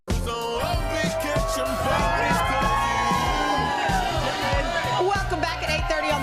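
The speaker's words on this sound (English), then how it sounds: "we have a happy crowd today, spending it out here with us here on our corner of Rockefeller Plaza" A studio crowd on the corner of Rockefeller Plaza cheers and whoops continuously for a morning TV show, a loud, dense wall of excited voices with shouting throughout.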